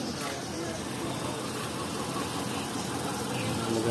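A Ford E150 van engine with random multiple misfires idles close by, a rough, uneven rumble with irregular knocking pulses that holds steady throughout.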